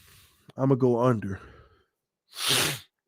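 A drawn-out vocal groan is followed by a short, breathy nasal burst, like a sniffle or sneeze-like snort, close and fairly loud.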